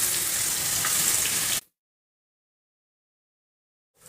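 Crushed garlic and ginger dropped into hot oil while making Kerala mango pickle, a loud hissing sizzle for about a second and a half that cuts off abruptly into silence before a faint return at the end.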